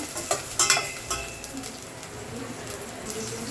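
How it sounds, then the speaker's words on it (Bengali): Chopped garlic, onion and green chili frying in a pan, opening with a few quick scraping stirs and clinks before settling into a soft, steady sizzle, close up with no talking. "দিচ্ছি একটা রসুন কুচি, পেঁয়াজ, কাঁচামরিচ হালকা একটু ভেজে নেব"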